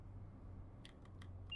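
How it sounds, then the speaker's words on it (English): The DSD vigilance alarm sounds inside a train cab in Train Sim World 5 on the Birmingham Cross City line: a few short, faint electronic beeps over a low engine rumble, ending in a brief steady tone. "Even though DSD will go off now and beep at us."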